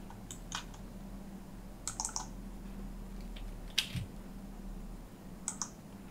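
A computer keyboard used while drafting in AutoCAD gives a handful of soft, sparse key clicks, including presses of the Enter key, over a quiet room hum.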